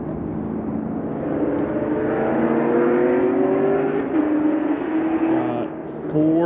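Four Ford Mustangs speed through mountain roads, their engines revving and climbing in pitch, building to a steady roar that swells and eases as the cars pass at some distance.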